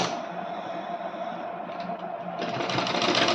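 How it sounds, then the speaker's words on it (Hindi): Electric sewing machine stitching pleats on a blouse, a steady fast mechanical whir running continuously, close and loud, growing slightly brighter near the end. "इस तरीके से तिरछी सिलाई हम निकाल देते हैं।"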